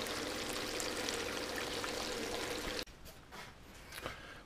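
Water gushing steadily through a 4-inch Hydroforce nozzle, a loud broadband rush that cuts off abruptly partway through, leaving quieter splashing and dripping afterward.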